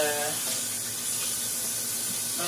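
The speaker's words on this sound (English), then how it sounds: "I gotta wash my hands again" Hands washed under a running kitchen tap during cooking: a steady, close hiss of flowing water splashing into a sink, continuous throughout, with brief voice fragments over it.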